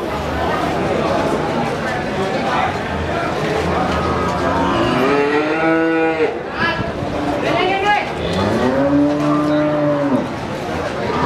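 Fat cattle at an Indonesian livestock market give several loud, drawn-out moos close by, rising over a busy background of crowd chatter and talking voices.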